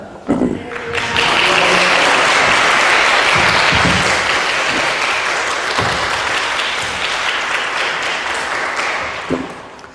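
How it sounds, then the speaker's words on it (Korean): A church congregation gives a big hallelujah round of applause to welcome the pastor, loud sustained clapping that swells quickly after a brief start and holds steady before tapering slightly. "목사님 나오실 때 여러분 큰 할렐루야 박수로 환영해 주시겠습니다"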